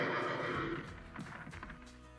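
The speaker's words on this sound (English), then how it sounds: "why the horses whinny and panic every time someone says the name Frau Blucher" Horses whinny in a scene from the 1974 comedy film Young Frankenstein, a loud, drawn-out neigh up front followed by snorting and shuffling hooves, with no talk over it.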